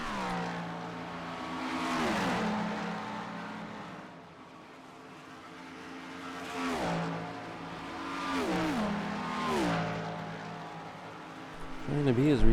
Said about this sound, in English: Trying to be as respectful as we can and let these cars by.